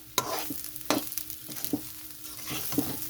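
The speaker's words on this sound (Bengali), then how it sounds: "খুব ভালো করে ভাজতে হবে চালটা ভাজার পরে খুব ভালো গন্ধ বার হবে" Rice fries in a pan for sweet pulao, with a soft sizzle and several distinct scrapes and clicks of a spoon stirring against the pan, quiet and close.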